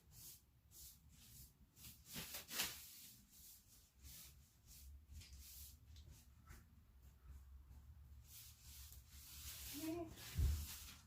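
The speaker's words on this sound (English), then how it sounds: "I keep just folding this over until I get clean towel" A folded towel wipes paint off an old wooden dresser during a refinishing makeover, giving soft, repeated rubbing strokes that sound close but faint, with a brief thump near the end.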